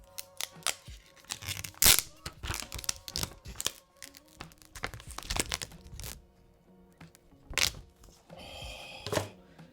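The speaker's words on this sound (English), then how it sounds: "Took off this protective film" Protective film is peeled off a Samsung Galaxy Z Fold 2, giving close crinkling and tearing rustles in irregular bursts, with a few sharp crackles and quieter handling noise in between.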